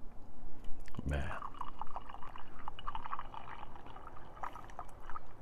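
Hot water poured for a drink at a lakeside coffee setup, a brief splashing pour that settles into a steady trickling fill, close by, with someone talking over it.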